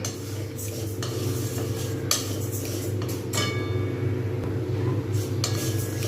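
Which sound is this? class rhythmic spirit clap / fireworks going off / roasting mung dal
roasting mung dal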